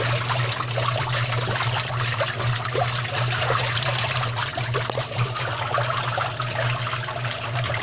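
Water sloshes and trickles continuously inside a Brastemp 12 kg washing machine, a busy wet churning over a low steady motor hum, close and even in level throughout.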